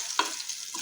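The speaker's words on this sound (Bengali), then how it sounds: "কি সুন্দর করে অমলেট ফ্রাই হচ্ছে।" An omelette fries in a pan with a soft, steady sizzle and one brief scrape near the start, with no voices over the short stretch.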